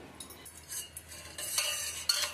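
Spoon stirring coriander sharbat sweetened with jaggery and sharpened with lemon juice, a close run of soft scraping and clinking swirls that grows busier and louder toward the end, with no voices.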